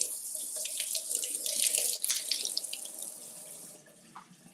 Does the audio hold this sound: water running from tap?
yes